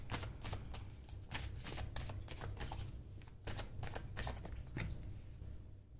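Tarot cards being shuffled and drawn, a steady run of close papery riffles and flicks with sharp snaps throughout, no voices.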